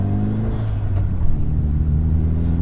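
Engine of a Mazda drift truck idles and revs in neutral, a dense, loud low rumble with a slight rise and fall in pitch, heard up close with no talking.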